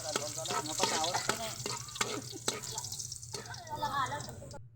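Garlic sautéing in a pan gives a light crackling sizzle beneath a voice, with brief clinks of the utensil.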